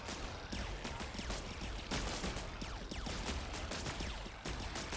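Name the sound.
spore launchers firing in the video game Buggos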